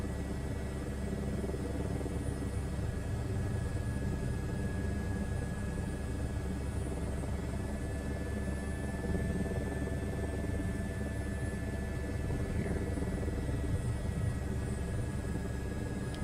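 Helicopter flying in Microsoft Flight Simulator 2024, a steady muffled rotor and engine drone with a constant high whine, unchanging and without talk.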